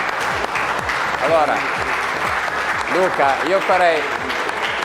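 Applause in a television sports studio, a steady patter of clapping heard under someone talking over it.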